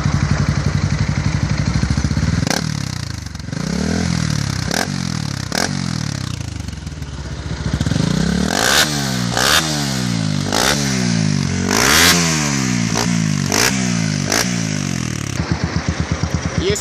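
Bajaj Pulsar 200 NS motorcycle fitted with a new Kid Racing aftermarket exhaust, revving in a series of sharp, loud blips that rise and fall, with clattering mechanical noise and a steady running idle between throttle bursts.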